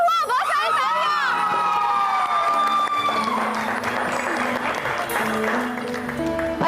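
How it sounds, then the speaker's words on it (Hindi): An audience breaks into applause that rises and continues to the end, with a swooping siren-like whistle or horn sounding over the start. "बहुत सारी तालियां।"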